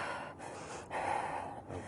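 Deep, fast, panicky breathing demonstrated during a breathing retraining session, several loud breathy gasps and snorts close to the mic with no talking.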